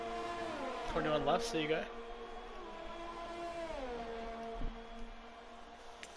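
F1 2020 race car in a video game pulling into the pits, its engine note dropping and shifting in steady tonal sweeps under commentary voices, with a brief louder burst of engine sound early on.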